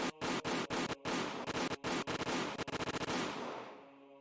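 Automatic weapon fire in the visual novel Higurashi When They Cry: rapid, loud, continuous bursts of shots, faster toward the end, then ringing out into a fading tail.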